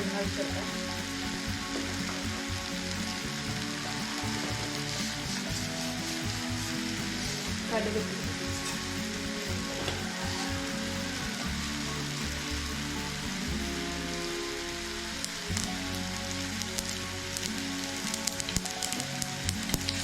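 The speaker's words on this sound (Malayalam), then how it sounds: "കടുക് പൊട്ടി വരുന്നുണ്ട്" Mustard seeds sputtering in hot oil for tempering a yam curry, a dense continuous crackle and sizzle close by, with occasional faint background voices.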